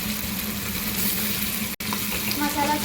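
Masala frying in oil in a pan gives a steady, moderate sizzle that runs continuously, with a brief break near the middle and a few faint clinks toward the end.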